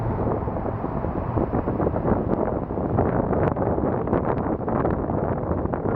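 Strong, steady wind of about 40 mph roars and buffets the microphone continuously, a dense rumbling rush with brief gusty peaks throughout.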